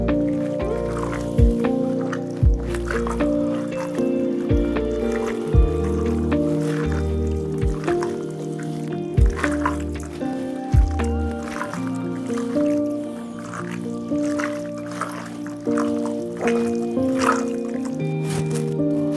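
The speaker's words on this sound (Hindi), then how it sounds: "अब आपने इसको अपने हाथ से नहायत इत्मीनान से मैरिनेट कीजिए।" Goat liver is worked by hand with spices for marinating, giving wet squelching and dripping sounds with soft slaps, close and steady, over a low hum of background music.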